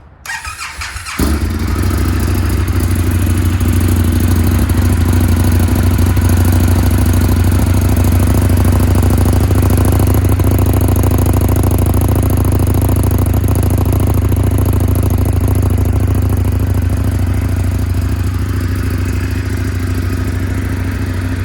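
An Indian FTR 1200 motorcycle fitted with an Akrapovic titanium header idles close by. It fires up after about a second, then settles into a loud, steady, throbbing exhaust note that runs through to the end.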